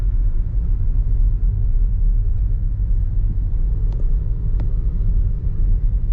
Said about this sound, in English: we're basically caught in traffic going over the bridge